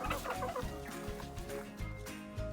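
Chickens cluck in a stream of close, busy, overlapping calls inside a farm chicken house with roost poles and nest boxes, the hens alone with no voices.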